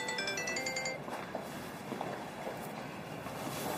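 A phone ringtone plays a short repeating electronic melody for about a second, then cuts off and leaves a quiet, rumbling room background.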